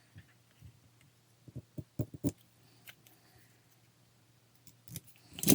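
Scissors snipping paper for a Halloween pop-up card, a series of short separate crisp cuts close by, clustered near the middle and end with quiet pauses between, no talking.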